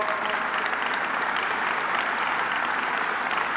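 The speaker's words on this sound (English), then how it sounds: "Amtrak and its chairman, Tony Kosher, let's give them a round of applause." Steady, dense applause from a large audience at a public announcement event for major train station construction, loud and continuous throughout with no speech over it.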